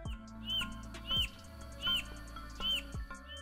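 A bird of paradise from the mountains of western New Guinea gives repeated sharp, rising whistled calls, about four evenly spaced notes over a steady low background hum.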